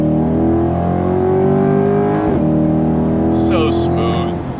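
A C8 Corvette Stingray 70th Anniversary Edition's LT2 V8 pulls hard in second gear, its loud, close engine note climbing smoothly in pitch with a brief shift-like dip while people talk over it.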